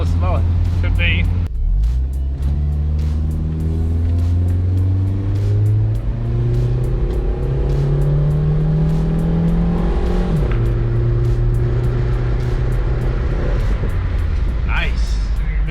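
A 1991 Toyota Corolla engine drones steadily while driving, rising in pitch as it accelerates, dipping briefly, then climbing again, with people talking over it inside the car.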